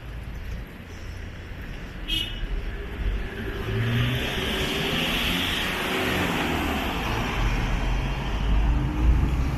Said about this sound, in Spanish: el fuerte tráfico que hay ahorita acá.